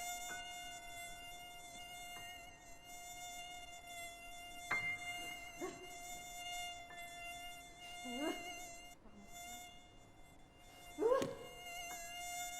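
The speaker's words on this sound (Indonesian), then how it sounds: "Nyamuk." A mosquito whines near the ear in a continuous thin, steady buzz, joined by several brief louder swells and scuffs as it moves close.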